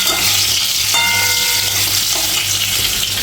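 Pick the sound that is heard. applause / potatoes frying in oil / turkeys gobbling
potatoes frying in oil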